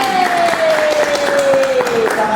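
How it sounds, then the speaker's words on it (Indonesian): Loud, close applause breaks out from a school audience after a group guidance performance at BK Expo 2024, with a thin whistling tone sliding downward through the clapping. "Tepuk tangan."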